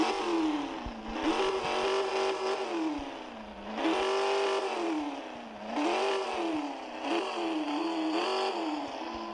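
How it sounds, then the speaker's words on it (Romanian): A 1990s Ford Mustang engine is revved repeatedly: four or five rising-and-falling throttle blips in a steady rhythm, a close, throaty, clattery drone with no talk. "Stați un pic să vedeți cum se aude motorul ei."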